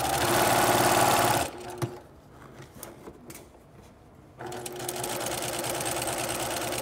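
A sewing machine stitches a princess seam on a bodice, running loud and steady. It stops for a pause filled with small handling clicks, then runs again for the back stitch at the seam's end.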